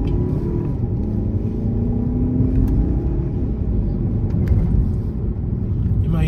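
Inside a moving car on the road, the engine and tyres make a loud, steady low rumble that runs unbroken throughout.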